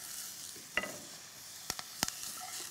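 Green peppers and mushrooms fry in a pan with a little cooking oil, giving a faint, steady sizzle broken by a few sharp, quick pops.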